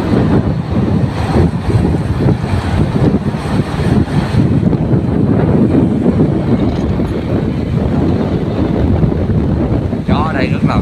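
Strong wind at an outdoor pool buffets the microphone in a continuous loud, rumbling roar with gusty surges throughout.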